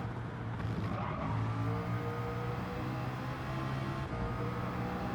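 LMP2 race car in Gran Turismo 7 sliding past a hairpin in Bathurst 12 Hour qualifying, a steady loud engine drone with tire scrub and skid running throughout, no talk.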